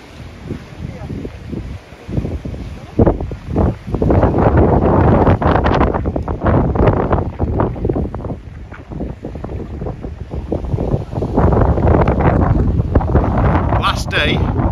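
Strong wind roars over a dive resort reef drop-off in blown-in weather, loud and steady with gusty buffeting of the microphone throughout, and a voice is heard briefly.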